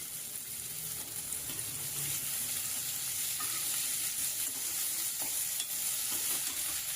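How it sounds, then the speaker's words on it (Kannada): Carrots, fresh peas and other chopped vegetables stir-fried in a pan, giving a steady close sizzle with scraping stirring strokes throughout, no voices. "ಎಲ್ಲ ಚೆನ್ನಾಗಿ ಫ್ರೈ ಮಾಡಿ"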